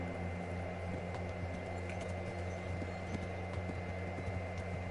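Horse hooves beat in a steady, rapid gallop rhythm in the medieval game Kingdom Come Deliverance, soft and fairly distant over a constant low hum and rumble.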